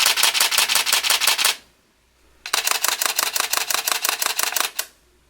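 Canon 77D DSLR firing a continuous burst at six frames per second: crisp, rapid shutter clicks in an even rhythm, close and clear, one run of about a dozen frames, a short pause, then a longer second burst.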